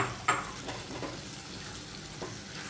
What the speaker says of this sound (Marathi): मी टॉमॅटो प्युरी केली आहे ती यामध्ये घालून घेते छान असं परतवून घेते